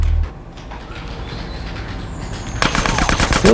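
Gunfire erupts as a rapid, loud burst of closely spaced shots near the end, following a quieter stretch of low rumbling background.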